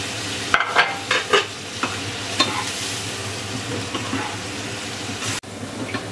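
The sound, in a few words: onions frying in a pan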